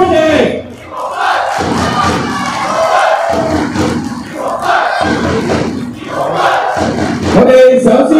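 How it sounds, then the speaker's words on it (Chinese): A stadium crowd at a Hong Kong football match applauds and cheers in sustained, loud, dense waves that swell and ease across the whole stretch, with no speech on top. "掌声欢迎。"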